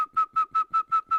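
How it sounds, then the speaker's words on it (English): A person whistles a steady high note in a row of six short, evenly spaced bursts, each with a breathy attack, close and clear with no talking. "when you whistle,"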